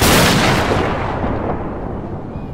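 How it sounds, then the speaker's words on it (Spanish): A big explosion that shakes the ground: a loud, deep blast that starts at full force and rolls away into a long fading rumble. "La explosión sacudió el suelo bajo nuestros pies."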